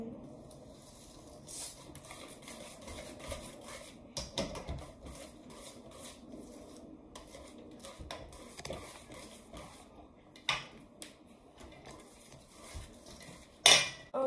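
Cheesecake batter being mixed in a bowl with a utensil, steady soft scraping and clinking against the bowl, close and fairly quiet, with a few sharper knocks near the end.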